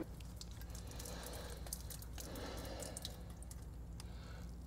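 Water sloshing and dripping inside the intake pipe of a side-by-side vehicle, a faint, close trickle with scattered gurgles and drips.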